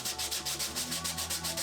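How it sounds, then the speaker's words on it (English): Wood being sanded by hand for a headphone stand, a close rhythmic rasping of quick back-and-forth strokes, about a dozen evenly spaced in under two seconds, with no talking. "Then I did some hand sanding just to clean it up."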